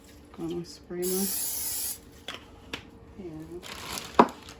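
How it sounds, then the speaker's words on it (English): Cooking oil sprayed onto an air fryer pan, heard as a close, steady hiss of about a second between soft handling noises, with a voice talking around it. "gonna spray my"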